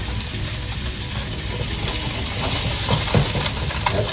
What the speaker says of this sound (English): Just trying to saute a little bit